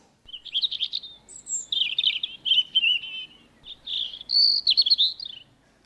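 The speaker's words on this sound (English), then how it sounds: "But birds also create beautiful love songs, like this one." Played birdsong in a comedy sketch, a bright, high chirping song in quick repeated phrases, clear and close, with short pauses and no voices.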